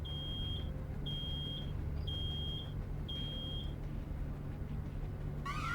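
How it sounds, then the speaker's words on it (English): Electronic alarm in the video game Road 96, sounding as four evenly spaced high steady beeps about one second apart over a constant low engine-like hum, with a brief chirp at the end. "Oh no! Something's beeping."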